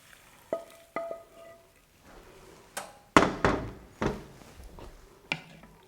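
Pastırma and dried beans stirred in butter in a pan: a handful of sharp spoon knocks and scraping strokes against the pan over a faint low sizzle, close up, with no voices.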